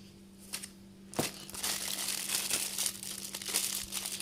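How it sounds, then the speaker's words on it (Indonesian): Homemade pastry dough is pushed into a plastic bag, giving several seconds of close, busy crinkling and rustling of plastic over a low, steady hum. "Masukkan ke dalam plastik, kemudian kita dinginkan dulu di lemari es selama 15 menit ya"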